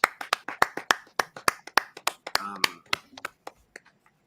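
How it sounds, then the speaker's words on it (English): Scattered claps from a small group, a sparse round of applause under a radio sports show, sharp separate hand claps in an uneven rhythm that thin out and stop after about four seconds. "Let's give a round of applause for TD Bank."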